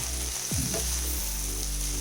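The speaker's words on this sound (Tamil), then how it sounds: "இது எல்லாத்தையும் மொத்தமாக சேர்த்து வதக்கிக்கலாம்." Chopped onion and potato sautéing in a pan for potato rice, a steady close sizzle and frying hiss with a few stirring scrapes, no talk.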